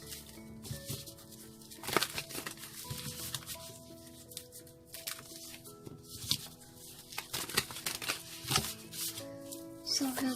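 A deck of cards is shuffled in a tarot-style reading, with repeated crisp riffles and soft slaps, close and quiet, over gentle background music.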